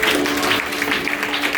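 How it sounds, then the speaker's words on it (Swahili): A church congregation claps together in a dense, continuous wash of applause, steady and fairly loud throughout the short moment. "Yesu, makofi mazuri."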